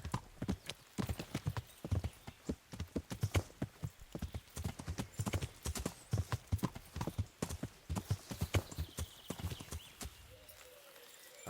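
Horse hooves gallop in Kingdom Come: Deliverance, a rapid, fairly close run of clattering beats that keeps a steady pace for about ten seconds and then stops abruptly near the end.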